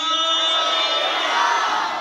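A church congregation at a Sunday service shouts and cheers together in one loud, sustained roar of many voices, steady throughout with no pauses.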